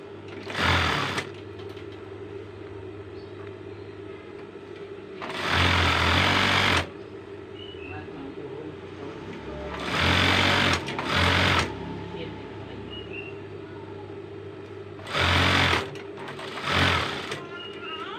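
Sewing machine stitching the front of a pillowcase, running in several short bursts of rapid mechanical whirring, close and loud, with a steady hum between the bursts.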